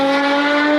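A supercharged V6 Lotus Evora engine drones loudly and close, a steady, strongly tonal exhaust note held without change.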